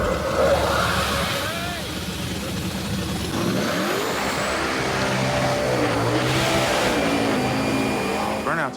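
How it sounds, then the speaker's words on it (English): A street race car does a burnout: a loud, sustained engine roar with rising and falling revs and a harsh broadband hiss from spinning tires, with voices faintly under the noise. "Burnouts are loud as hell"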